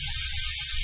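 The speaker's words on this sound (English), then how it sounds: "I'm just going to spray that down." Carb cleaner sprayed from an aerosol can into the intake of a Honda V6 engine gives a steady, close hiss that runs for under a second with no pauses.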